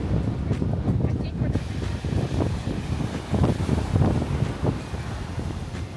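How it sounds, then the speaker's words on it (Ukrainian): Strong outdoor wind buffets the microphone in Barcelona, producing loud, rumbling low gusts that rise and fall continuously, with a voice faintly present beneath the roar. "Вітер такий, що капець."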